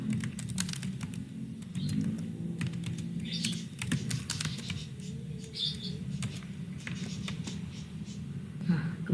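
Rapid keystrokes on a computer keyboard entering CLI commands for network switch configuration, a steady run of close clicks over a low background hum, with birds chirping faintly in the distance.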